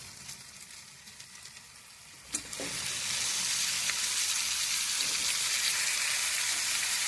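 Drumstick pods drop into masala frying in a pan, setting off a sudden burst of loud, steady sizzling that continues to the end after a quieter stretch of low frying.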